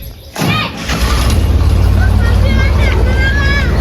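A tractor drives past outdoors in a village. Its engine rumble rises quickly and then holds loud and close, with people's voices mixed in.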